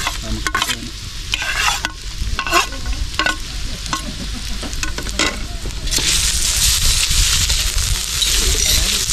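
Onion and garlic sauté in a pan, with scraping stirs and clinks at first, then the sizzle swells into a steady hiss; brief voices can be heard early on.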